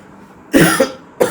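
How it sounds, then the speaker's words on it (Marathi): A man with a cold gives two sharp, close coughs, the first a double burst, the second short, with near silence before them. "कारण खोकला आहे थोडा"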